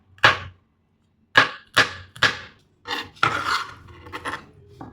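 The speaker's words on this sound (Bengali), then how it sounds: "গার্লিক চপ হয়ে গেছে।" A knife chops garlic on a board, several sharp separate strikes in quick groups with brief pauses between, followed by a rougher, denser run of scraping and chopping.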